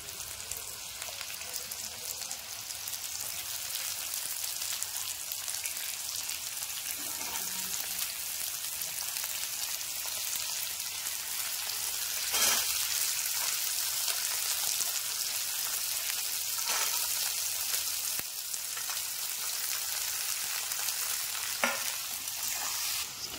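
Potatoes, then green beans and yardlong beans, fry in hot oil in a pan, giving a steady, close sizzle across the whole stretch with occasional stirring scrapes and clinks, and no talk.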